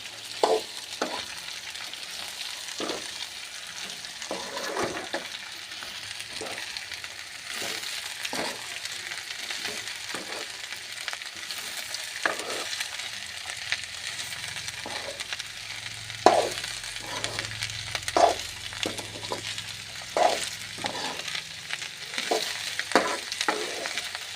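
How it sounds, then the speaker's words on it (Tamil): Shredded cabbage for poriyal fries in a pan, a soft continuous sizzle broken by repeated scraping stirs of a spatula at a loose, unhurried rhythm, close and moderately quiet with no talking. "அடியில் இருக்கிற கோஸ்லாம் மேலே வர மாதிரி மேலே இருக்கிற கோஸ்லாம் அடியில் வர மாதிரி நல்லா கிளறிக்கலாம்"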